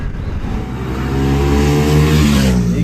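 A Triumph motorcycle on a test ride, its engine running steadily and loud throughout, with harmonic tones rising as it revs and accelerates, no voices over it.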